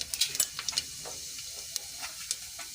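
Cumin seeds dropped into hot oil left from frying muthiya give off a quiet, crackling sizzle with scattered sharp pops and light clinks.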